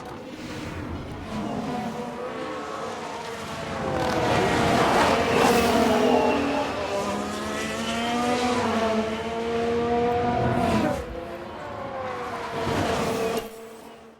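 A Ferrari Formula 1 race car in the F1 Manager 22 video game screams past, its high engine note rising and falling in pitch as it accelerates and shifts, moderately loud under ambient track noise.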